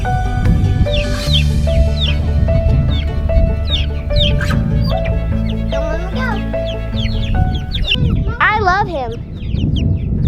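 Chicks and a young turkey of the same age clucking and peeping close by in a busy, steady chorus, with chirps rising above it and a voice talking in the background.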